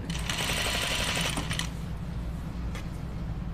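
A sewing machine stitches a dress in a fast, rattling run of needle strokes for about a second and a half, then stops, leaving a low hum and a few faint clicks.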